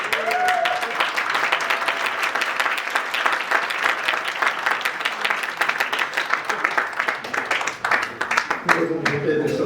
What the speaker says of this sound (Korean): 또 뜨거운 박수로 환영해 주십시오.